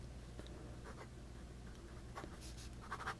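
A Jinhao 9019 fountain pen nib scratches across paper in short, faint strokes, with a few quick scribbles near the end, quiet and close.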